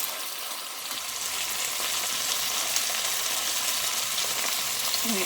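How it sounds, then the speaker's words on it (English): Pot roast searing in a hot pot, a steady bright sizzle that swells slightly and holds at an even, fairly loud level throughout, with no talk over it. "it's just pan searing"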